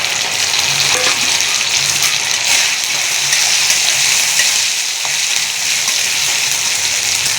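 Chopped tomato goes into ginger and spices frying in a pan, producing a loud, continuous close-up sizzle and crackle that holds steady throughout, with no voices.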